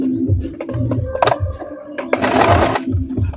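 A Stitchmaster table top sewing machine sews a buttonhole, its motor humming with a rapid mechanical chatter of needle strokes up close, with a brief burst of louder whirring partway through.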